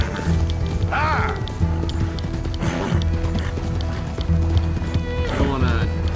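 A horse gallops in the Red Dead Redemption 2 video game, with rapid hoofbeats drumming steadily over game music and effects, and a voice calls out now and then.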